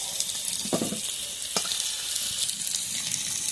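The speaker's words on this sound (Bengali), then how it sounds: "সব আলুটা ভেজে নেবো ওই তেলেই।" Potatoes frying in oil give a steady, close sizzling hiss throughout, with a couple of brief clinks from stirring, and no talk.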